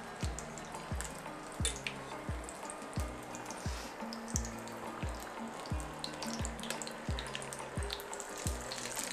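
Potato-stuffed snake gourd fries in hot oil, a busy crackle and sizzle running throughout over a regular series of soft low thumps.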